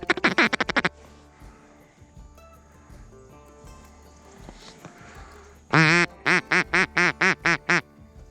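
Duck calls sound during a duck hunt, loud rapid quacks in a burst at the start, then a quiet stretch with faint outdoor noise, before another run of about eight strong, evenly spaced quacks close by.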